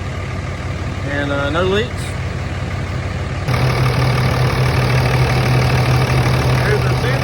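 A 2004 Dodge Ram 2500 with a 5.9 Cummins diesel idles nearby with a steady low rumble that grows louder partway through, while someone talks over it.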